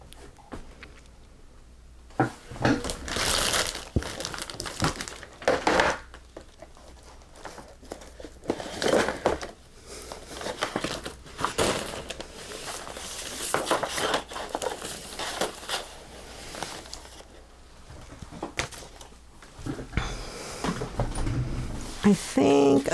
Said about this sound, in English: Let me get some scrap paper.